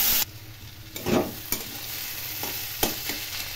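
Ginger and shredded cabbage curry fries on a low flame while being stirred, a steady close sizzle broken by several sharp spoon scrapes and knocks against the pan.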